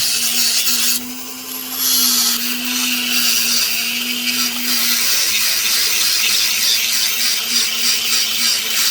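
A Dremel rotary tool cuts a rough opal picture stone. It gives a loud, close, high-pitched whine that holds steady, dips briefly near the start, then rises again and runs on continuously as it grinds.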